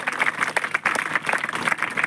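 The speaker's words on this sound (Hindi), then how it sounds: "अरे जोर से तालियां हो जाए इनके लिए" Steady applause from an audience honouring young daughters seated on a school stage, continuous clapping held at an even level for the whole stretch, with a bit of crowd murmur underneath.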